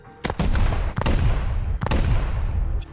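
Explosive charges detonating during a raid in the video game Rust: three loud, sharp blasts roughly a second apart, each trailing into a rumbling decay, with no voices over them.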